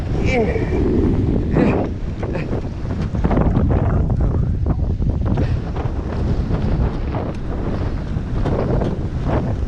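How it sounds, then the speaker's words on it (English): A strong headwind buffets the microphone continuously on a coastal walking track on Tasmania's west coast, a loud, rumbling roar with gusty surges throughout. "this is slow going in this headwind"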